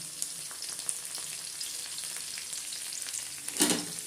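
Steady sizzling of vegetables frying in a pan with garlic and capsicum, a continuous crackle with a brief louder burst near the end, no voices.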